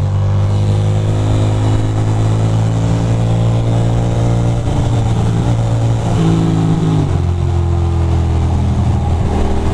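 Heavy engine roar of a truck on a New York City street, loud and close, with a deep steady drone that shifts pitch a few times as gears change.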